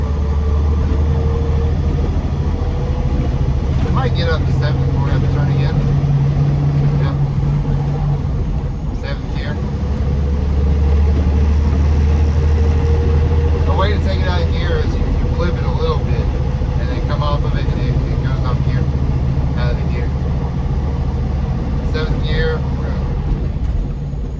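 A heavy truck engine runs steadily throughout, its low rumble rising and falling as the driver shifts up through the gears of a 10-speed manual transmission, with someone talking over it.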